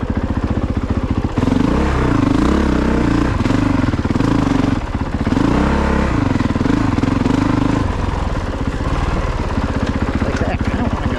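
Honda CRF450RX dirt bike ridden through deep ruts on a muddy single-track trail, its engine loud and close throughout with constant revving, bogging and throttle surges, joined by a faint rattling clatter.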